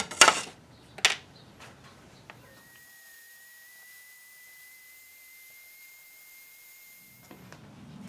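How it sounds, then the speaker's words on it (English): A bandsaw cuts through a thin, paper-like puzzle box sheet. A couple of loud knocks are followed by a steady, thin, high whine that holds for several seconds before fading into rustling handling noise. "Now we're going to go to the bandsaw."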